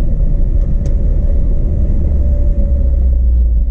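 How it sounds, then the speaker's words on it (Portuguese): A car engine pulls steadily in third gear as the car gains speed with light throttle, a continuous low rumble heard from inside the cabin with no talking. "Vocês estão vendo que o carro tá ganhando velocidade normal."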